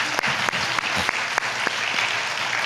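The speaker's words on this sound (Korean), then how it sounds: "우리 사랑과 위로의 박수 한번 보냈으면 좋겠습니다" Steady applause from a congregation fills a church, even and sustained, with a few sharper claps standing out.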